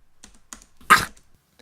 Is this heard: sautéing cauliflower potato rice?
no